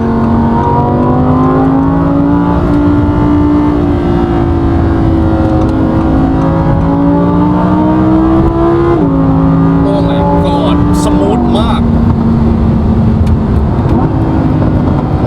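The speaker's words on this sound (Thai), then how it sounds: "ฟังเสียง ปุ๊บปุ๊บปุ๊บปุนี่ โอ้โห แบ็คไฟมาเต็มเต็มเลยนะครับ" An Audi R8 V10 Performance Quattro engine drones loudly and steadily as it accelerates, then rises in pitch near the end, with a few sharp crackles of exhaust backfire, while a voice talks over it.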